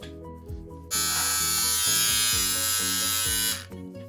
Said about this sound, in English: This is actually running 6500 with this trimmer, but this is very loud.